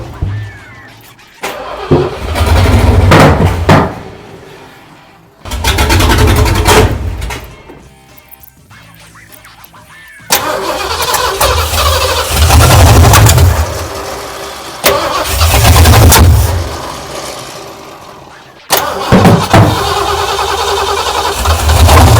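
An old abandoned truck engine cranks repeatedly after a timing adjustment at the distributor, several loud bursts of starter grinding separated by pauses, close and without talk.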